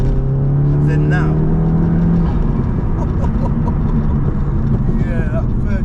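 Stage 3 Skoda Octavia vRS saloon tuned to 477 bhp, accelerating hard in third gear: a loud droning engine rising in pitch from inside the car, with people talking over it.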